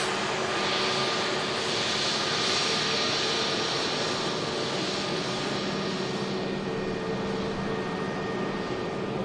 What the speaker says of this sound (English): here comes the beautiful Egypt Air taxiing past us